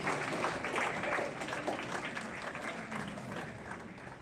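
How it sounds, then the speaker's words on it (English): An audience at a charity auction dinner applauds with a broad, sustained wash of many hands clapping, moderately distant and fairly soft, slowly fading toward the end. "Give me a nice round of applause."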